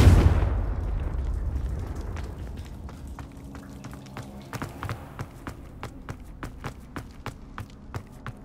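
A Confringo spell explosion in the Hogwarts Legacy video game: one loud, deep blast opens, then fades into a long rumbling tail, followed by a run of sharp rhythmic footstep-like taps.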